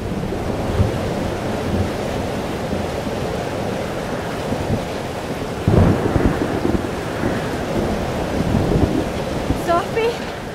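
Heavy rain pours steadily in a thunderstorm in the video game Life is Strange: Double Exposure, with a deep thunder rumble swelling around the midpoint and rolling on under the constant downpour.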